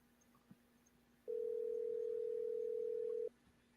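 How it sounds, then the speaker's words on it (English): A telephone rings with one steady electronic tone lasting about two seconds, clear against a quiet room. "you hear that phone ringing there?"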